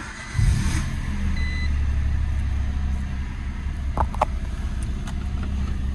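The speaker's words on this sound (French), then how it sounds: "Donc là, je démarre ma voiture." A car engine cranks to life with a sharp burst near the start and then idles in a steady, low hum, with a couple of faint beeps partway through.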